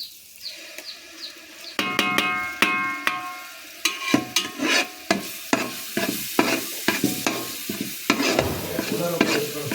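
Onion and green chilli sautéing with ginger garlic paste for porridge, a spatula striking and scraping the pan in quick repeated clatters over a soft sizzle, close and loud with no talking.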